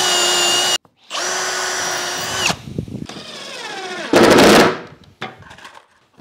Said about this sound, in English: I'm using some brass screws to screw them in